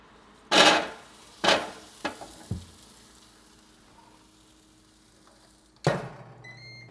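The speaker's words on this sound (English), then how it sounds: "we'll drop the potatoes into the air fryer" Potatoes drop into an air fryer basket in a few sharp, close clatters, two loud hits followed by smaller knocks, then a final clunk after a quiet pause.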